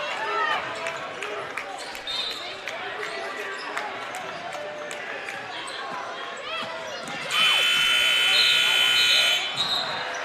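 At the end of the half of a varsity high school basketball game, a loud flat buzzer blares for about two seconds over squeaking sneakers, ball bounces, crowd noise and a commentator talking.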